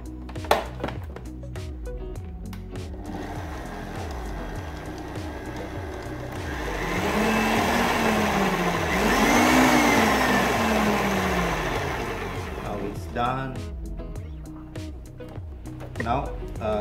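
An electric mixer whirs through an almond meal mixture, its motor pitch climbing and then sinking in a loud, sustained hum, with brief talk just before and after.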